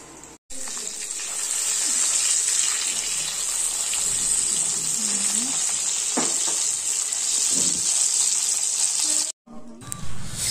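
Dried red chillies and curry leaves crackle and sizzle steadily as they temper in hot oil in a wok, a continuous bright frying hiss that holds close and loud for most of the clip with brief breaks.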